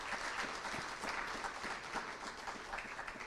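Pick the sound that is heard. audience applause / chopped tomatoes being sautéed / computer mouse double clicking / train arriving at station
audience applause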